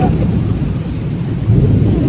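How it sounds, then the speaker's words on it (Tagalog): Heavy rain pours down in Macau during a thunderstorm, a loud, continuous close roar with a deep rumbling swell toward the end, no talk. "Kasi sobrang lakas ka ng ulan."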